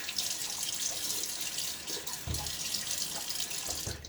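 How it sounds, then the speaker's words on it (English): Cold water runs steadily from a bathroom tap into a sink before a traditional razor shave, a continuous close hiss with occasional splashes and no talking. "let's splash some of this cold water"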